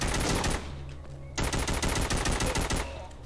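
AK assault rifle fire in the Walking Zombie 2 video game: rapid automatic bursts, a short burst, a pause, then a longer sustained string of loud shots.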